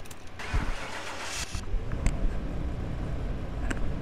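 A Nissan 370Z in Car Mechanic Simulator 2021 cranks on a dyno, catches after a moment and settles into a steady, loud idle with some mechanical clicks over several seconds, no talk.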